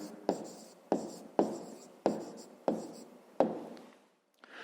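Pen writing an answer in a fifth-grade maths exercise, six short sharp strokes at a steady rhythm, close and quiet, with a brief scratch at the end.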